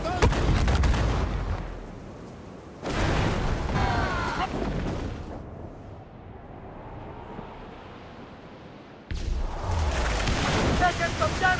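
Ship cannons boom during a naval battle in Assassin's Creed Freedom Cry, heavy blasts over roaring wind and crashing waves, with shouted orders from the crew in between the volleys.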